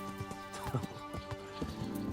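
Horse hooves clip-clop steadily at a walking pace in the video game Kingdom Come: Deliverance, with a whinny rising over them, set against a sustained musical background.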